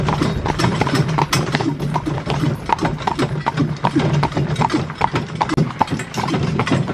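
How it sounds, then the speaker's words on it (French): Rapid, loud hoofbeats drum close by in a steady galloping rhythm, with a low rumbling hum underneath. "le cheval il va à fond là"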